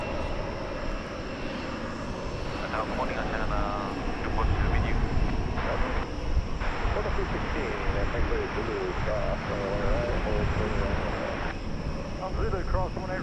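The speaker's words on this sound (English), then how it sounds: "Hey, we've got a Delta plane taking off here." Delta Flight 984, a jet bound for Los Angeles, takes off at DFW Airport, its engines a steady broad roar throughout with a swell midway, while people talk intermittently over it.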